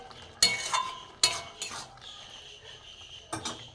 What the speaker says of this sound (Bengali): এতে ধনেপাতা দিয়ে একটু নেড়ে দিই